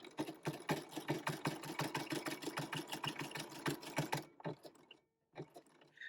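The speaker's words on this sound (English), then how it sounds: "I'm just going to sew all the way around to the other side of the middle" A sewing machine stitches around a paper gift card holder in quick rhythmic needle thumps, a close steady mechanical chatter that halts near the end, followed by a few soft handling clicks.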